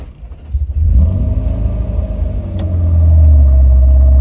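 A manual Ferrari 348's engine starts up close by, a deep rumble that swells and settles into a loud, steady idle with a strong low drone.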